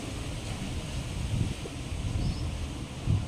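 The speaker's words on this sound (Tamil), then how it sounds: "காற்று நல்லா ஹெவியாக அடிக்குது" Gusty wind buffets the microphone outdoors, a rough, uneven rushing noise with no speech.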